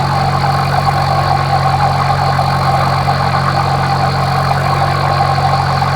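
Small airplane engine throttled back to 1600 rpm during a 30-degree banked turn near Fairbanks International, a loud continuous droning hum heard steadily from inside the cabin, with no voices.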